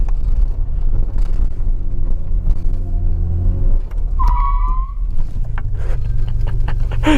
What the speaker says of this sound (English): I'm just gonna go come in real fast and lock up the front brakes.